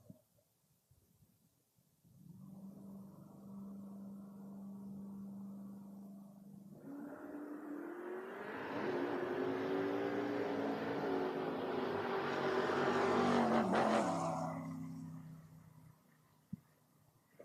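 Drag racing cars at a Door Wars bracket race, including a Mustang, idle in a low steady rumble, then launch into a loud broadband roar that builds for several seconds before cutting off, heard from trackside.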